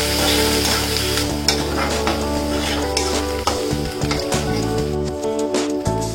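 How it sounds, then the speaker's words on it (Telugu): Onion pieces and curry leaves frying in oil in a pan, a steady close sizzle with scraping stir strokes and small clinks, while background music plays throughout. "కొంచెం కరివేపాకు వేసి లైట్ గోల్డెన్ కలర్లో ఫ్రై చేసుకోవాలి"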